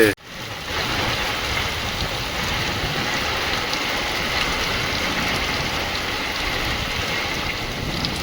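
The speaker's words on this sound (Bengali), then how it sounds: "তুফান বৃষ্টি হচ্ছে" Heavy stormy rain pours outdoors with a southerly wind driving it, a dense, continuous, loud roar of rainfall and wind noise with no talking.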